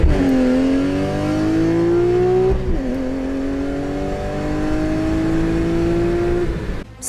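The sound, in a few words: car with modified exhaust revving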